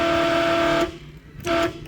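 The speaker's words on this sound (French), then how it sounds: "Sly, je crois qu'on avait oublié de voir le truc le plus stylé dans le Suzuki Jimny, le klaxon." Horn of a Suzuki Jimny sounding two honks, a long steady blast followed by a short gap and a brief second toot, loud and close with no talk.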